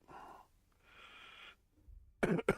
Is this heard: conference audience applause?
no